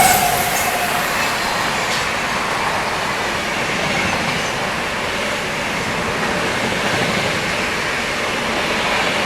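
The Vijayawada–Visakhapatnam Ratnachal Superfast, running with LHB coaches, rolls into Tadepalligudem railway station with a loud, steady rumble of wheels on track heard from on board, a dense continuous roar with faint squeals.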